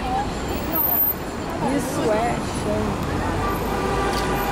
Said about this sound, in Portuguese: tá aberto para os pedestres, os carros estão passando